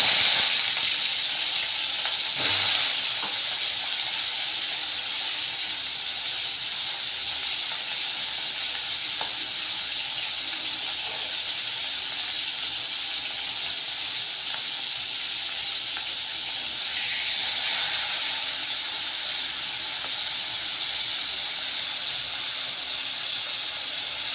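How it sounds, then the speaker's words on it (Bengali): A fish head coated in salt and turmeric fries lightly in hot oil, giving a steady, even sizzle and hiss throughout with a brief louder crackle near the start and a small swell later on. "মাথাটা একটু ভেজে নেব হালকা।"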